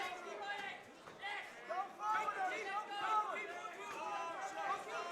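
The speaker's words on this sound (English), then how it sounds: "you can even hear the advice coming from the crowd" Spectators at a Muay Thai-style kickboxing fight, The Takeover event, call out and shout advice toward the fighters, a steady babble of overlapping voices with occasional louder shouts throughout.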